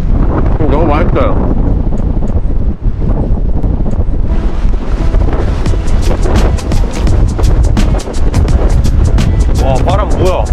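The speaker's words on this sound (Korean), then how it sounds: "와, 바람 뭐야?" Strong wind buffets a microphone on Gyeyangsan, a mountain in Incheon, roaring loud and continuous throughout, with people talking underneath the gusts.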